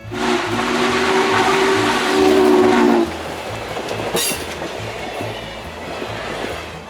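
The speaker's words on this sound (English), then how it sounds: "brought Norfolk and Western J-Class number 611 back to the Mainline to pull a series of excursions along the Buckingham Branch Railroad" Norfolk and Western J-Class 611 steam locomotive passing on an excursion along the Buckingham Branch Railroad, with a loud steady two-tone horn for about three seconds over continuous rolling clatter and rhythmic wheel beats, all close by.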